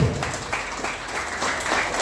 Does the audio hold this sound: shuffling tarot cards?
no